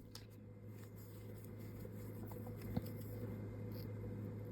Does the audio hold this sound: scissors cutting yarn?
yes